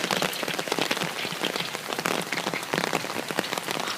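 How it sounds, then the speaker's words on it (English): Heavy rain pouring during a tornado storm, a dense, loud, continuous hiss of drops pattering on surfaces close by, with no voices. "the rain has hardened a lot."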